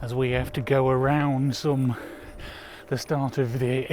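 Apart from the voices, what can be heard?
No everyday noises stand out.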